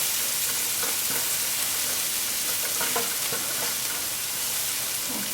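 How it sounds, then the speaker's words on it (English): Onion and garlic sauté in a pan with a loud, continuous sizzle and a few light stirring scrapes, close up, with no speech. "Get all your onion and garlic out. I'm gonna let that saute for just a few minutes"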